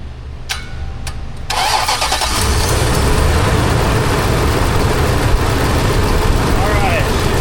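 An Infiniti QX56 SUV with a faulty A/C system cranks with a few clicks, then its engine catches and settles into a loud, steady idle close by.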